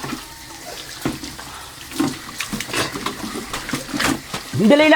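Water is poured over a person's head to rinse soap off while bathing, splashing in short uneven bursts as people talk close by throughout.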